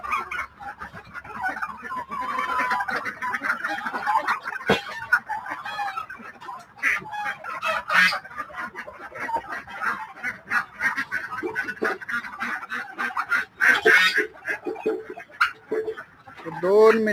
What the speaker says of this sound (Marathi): तुम्ही बघा पक्षी कसे बाहेर येतात.